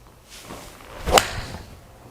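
A single sharp club strike from a PING i210 iron hitting a golf ball on a practice range, a brief crisp crack standing out clearly above quiet background.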